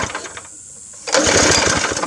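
A cheap go-kart engine cold starting with the choke on: a brief pull and a short lull, then the small engine catches and runs loud and rough with a rapid chugging close by.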